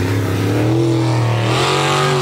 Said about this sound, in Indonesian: Perahu speedboat.